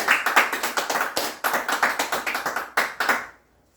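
Rhythmic, even clapping in near-unison from an audience welcoming a completed Bible recitation of Jeremiah, steady and fairly close for about three seconds before stopping abruptly.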